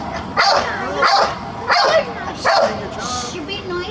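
A pet dog barks near a railway in Old Town Sacramento, four or five sharp, loud yips and barks in quick succession, close by, with a whimpering edge.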